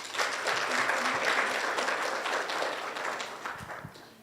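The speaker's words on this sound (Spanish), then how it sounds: "Denle un fuerte aplauso al Señor." Sustained applause from a church congregation, dense and steady, then thinning out slightly toward the end.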